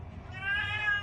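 A pet cat meows in the background, a single drawn-out, rising-and-falling cry that swells midway and holds fairly steady, faint and somewhat distant, with no talking over it.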